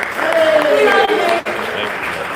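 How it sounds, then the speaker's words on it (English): Audience applause for artist May Summers Perkins at a charity auction evening at the Southampton International Boat Show, a steady wash of clapping from a room of people with loud cheering and voices mixed in throughout. "Give her a great big round of applause."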